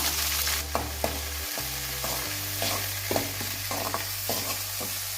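Drumstick flowers sauté with onions in oil, a steady close sizzle broken by regular spatula scrapes and stirs.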